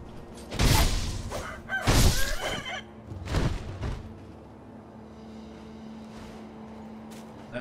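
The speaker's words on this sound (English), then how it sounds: "That was a chicken." Chicken in the video game Sekiro giving three loud, abrupt squawking bursts in quick succession near the start, then fading into quiet ambient game noise.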